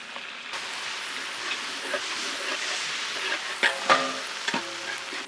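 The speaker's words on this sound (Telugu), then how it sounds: "దీంట్లోనే మనం అల్లం వెల్లుల్లి పేస్ట్ యాడ్ చేద్దాం" Ginger garlic paste fries with browned onions in oil for a village-style country chicken curry, a continuous crackling sizzle broken by a few louder scraping stirs of a spoon against the pan.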